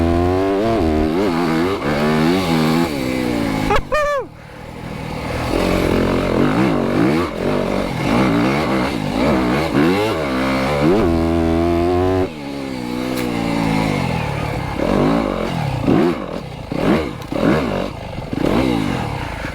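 A 2025 Yamaha YZ250FX dirt bike engine revs and bogs in continuous bursts, rising and falling with throttle as it climbs over obstacles, close and loud with clattering impacts.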